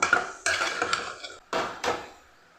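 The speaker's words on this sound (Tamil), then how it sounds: "காய் நல்லா வணக்கி விட்டுக்கலாம் ஃப்ரெண்ட்ஸ் ஒரு ரெண்டு நிமிஷம்" A spoon scrapes and clanks against a pan as cabbage is stirred and sautéed, about four distinct metallic stirring strokes, close and loud with little sizzle beneath.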